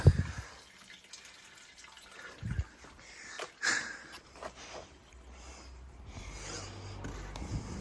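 Coolant drains from a disconnected radiator hose on a VW Touran. It makes a faint, close trickle with scattered drips and splashes, fairly quiet throughout.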